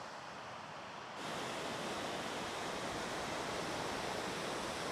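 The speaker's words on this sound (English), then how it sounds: "We are more or less right on top of this waterfall now" Steady roaring rush of a waterfall near Easedale Tarn in the Lake District, loud and close, a broad continuous wash that swells slightly after the first second and holds.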